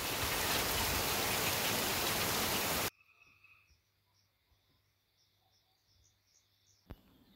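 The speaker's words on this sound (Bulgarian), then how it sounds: "след като се изсипа ето този дъжд над Тънково" Rain pours down over the village of Tankovo in a loud, dense hiss that cuts off abruptly, leaving a quiet outdoor scene with faint crickets and birds.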